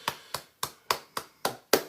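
A short burst of hand clapping during a casual campfire chat, seven sharp, evenly spaced claps about a quarter second apart, close and fairly loud with no voices over them.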